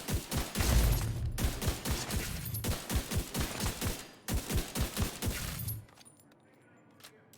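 Rapid sniper rifle fire in The Division 2, a fast run of loud, sharp shots in quick succession with a brief gap midway, then tailing off into quieter game ambience.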